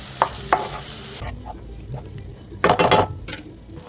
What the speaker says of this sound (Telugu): మొత్తాన్ని మంచిగా కలపాలి